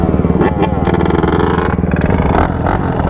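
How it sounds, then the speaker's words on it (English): A dirt bike engine starting back up at a lot, with a loud close rattling idle and revs that carry on steadily while people talk over it. "Oh, the bike starts back up."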